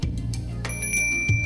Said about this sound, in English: Spirit calling bell.